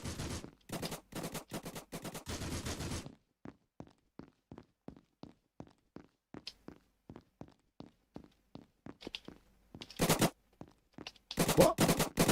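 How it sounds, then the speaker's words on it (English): Gunfire in the FPS parkour shooter GunKour comes in dense automatic bursts at the start and end, with a long run of evenly spaced single shots in between. "Is that somebody shooting at me around here?"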